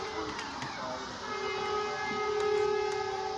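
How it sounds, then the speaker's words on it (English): A train passes close by outdoors, producing a loud continuous rumble with a sustained, horn-like tonal drone that swells slightly toward the end. "We're gonna go out here where the train's making the most noise."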